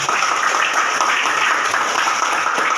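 Classroom applause during a lesson, a brief steady round of clapping from a group of students, close and fairly loud throughout.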